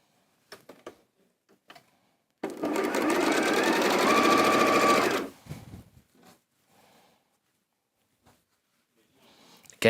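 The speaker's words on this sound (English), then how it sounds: "I'm now going to carry on sewing these 2 together here." A sewing machine runs in one steady burst of about three seconds, stitching pink and cream quilt block fabric pieces together, with brief handling clicks and quiet movement before and after.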